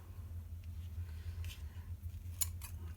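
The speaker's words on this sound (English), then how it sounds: "Let me get these trimmed a little." Scissors snip through fresh flower stems being trimmed for a scrapbook, a few quick close cuts over a steady low background hum.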